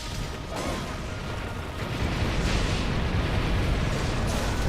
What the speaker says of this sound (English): another nice cannon barrage is actually what I wanted to say